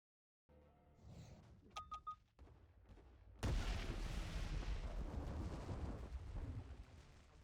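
Heavy artillery bombardment in the space strategy game Distant Worlds 2: a few sharp blasts, then a sudden loud, sustained rumbling barrage that rolls on without a break.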